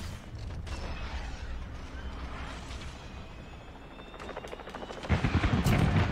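A cruise missile strike in Call of Duty: a long rumbling whoosh and mechanical creaking build steadily, then break into a heavy, rolling explosive blast near the end, loud and close.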